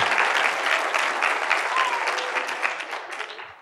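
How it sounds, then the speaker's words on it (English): Audience applause just after congratulations to Qatar on hosting the 2022 event: dense, steady clapping from a large crowd, loud and continuous, tapering slightly toward the end. "that deserves a good clap"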